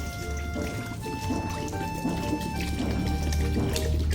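Water pours steadily from a mineral water bottle into a pork chop marinade, a continuous splashing trickle heard up close while a person keeps talking over it.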